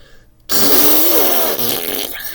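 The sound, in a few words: fart sound imitated by voice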